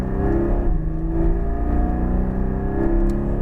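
A Porsche 718 Cayman GT4 accelerates on a race track, its engine roaring loudly and steadily from inside the car, with rising pitch sweeps as it upshifts.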